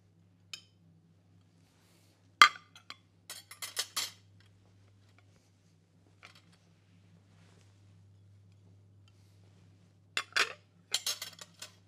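Plates and bread plates set out one by one on a table being laid for serving, sparse, sharp clinks and clatters of crockery and cutlery in short bursts separated by quiet pauses.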